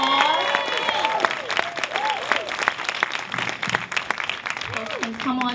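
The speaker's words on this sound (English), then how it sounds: "Round of applause." A crowd at a Newark film premiere of "Just Mercy" gives a round of applause as panelists take their seats, steady clapping with scattered cheers and voices talking over it.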